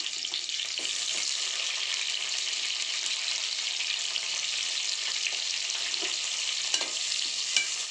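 Green chillies and mustard seeds fry in hot oil in a pan, giving a steady, bright sizzle with faint stirring clinks and no talking.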